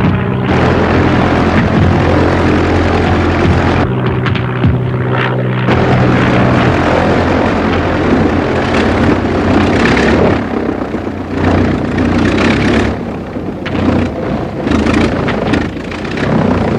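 A biplane's propeller engine running rough, a loud, close, continuous drone with a steady low throb and uneven surges and dips in its roar throughout, with no voices over it.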